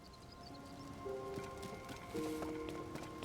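Steady rain hisses through an open landscape in a Zelda video game, a constant soft wash with a few faint tonal game sounds on top and no talking.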